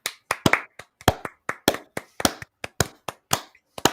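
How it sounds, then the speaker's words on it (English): Sparse, individual hand claps ring out one after another at an uneven pace, sharp and close, with no talking over them, as a small group applauds at the end of an interview show about FEMA. "Round of applause."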